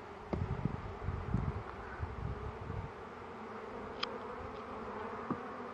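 Gentle-bred honey bees hum in a soft, steady drone close by, with brief rustles and light handling noises early on and no talking.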